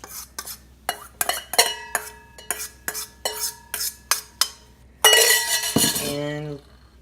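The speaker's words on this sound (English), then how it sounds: "then you're going to add the rest of your corn" A spoon clinks and scrapes against a dish in a quick, uneven rhythm as corn is stirred into a cheesy casserole, followed by a louder, longer scraping rub near the end, close up with no talking.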